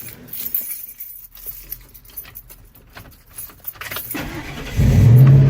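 A van engine cranks and starts near the end after a stretch of quiet handling and key jangling, settling into a loud, steady idle with a leaking exhaust pipe.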